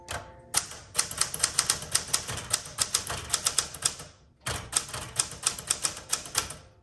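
Rapid, uneven key strikes on a 1967 Smith Corona Super Sterling manual typewriter, loud and close, with a brief pause partway through before the clacking resumes; no voices.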